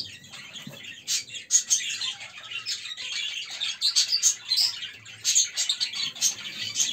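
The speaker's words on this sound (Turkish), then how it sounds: "Şu sultanlara bakmaya çalışalım," Cockatiels chirp busily in an aviary, with a dense, continuous chorus of bright, shrill calls and tweets throughout.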